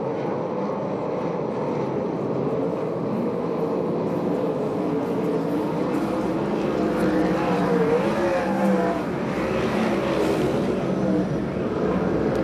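USAC/CRA sprint cars roar around the dirt oval at Perris, California, a steady, dense engine drone from a pack of cars that swells and fades slightly as they pass, with no voices heard.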